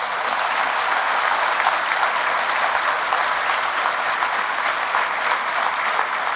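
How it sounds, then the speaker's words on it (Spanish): A church congregation at Padre Bernardo's service gives loud, sustained applause in honor of Jesus of Nazareth, a dense, steady wash of clapping that fills the entire stretch with no voices rising above it. "Fuertes aplausos a Jesús de Nazaret."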